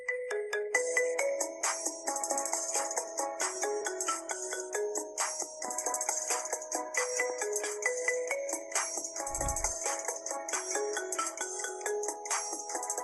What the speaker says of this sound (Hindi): सबसे फर्स्ट जो रिंगटोन आ रही है वो है आईफोन 11 ऑफिशियल